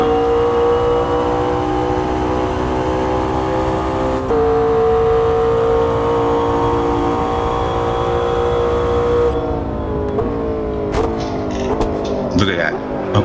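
A race car engine in the Automobilista 2 sim holds a loud, steady high-pitched drone, with a gear change partway through and the pitch rising and falling near the end.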